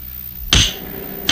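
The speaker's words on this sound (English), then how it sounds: "I'd better use a bigger hammer." A bigger cartoon hammer strikes a hard diamond twice, each blow a sharp, loud crack with a quick fade, the second landing under a second after the first.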